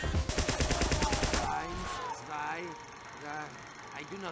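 Rapid bursts of video game gunfire from Team Fortress fill the first second and a half, loud and dense, then give way to a voice making short exclamations.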